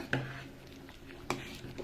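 Two sharp metallic clicks about a second apart as the lid of a pressure cooker is closed over ghee rice, quiet and close with faint kitchen background between them.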